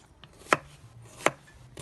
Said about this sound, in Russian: Вот сейчас мы это все будем нарезать и обжаривать каждый отдельно продукт.